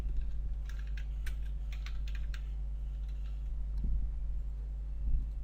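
Keys clatter on a computer keyboard as text is typed, in quick irregular clusters of soft clicks, then a few sparser taps over a low steady hum.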